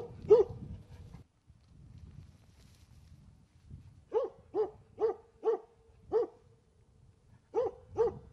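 A hunting dog barks at a moose cow and calf in a forest, close and fairly loud, with a single bark, a quiet gap, then a rapid run of six sharp barks followed by two more.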